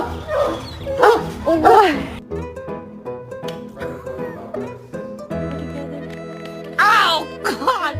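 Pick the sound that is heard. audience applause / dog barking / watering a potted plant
dog barking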